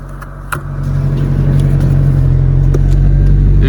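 A turbo Honda Civic pulls away after a short click. The engine rumble swells within a second into a loud, close, sustained roar under acceleration, with no talk.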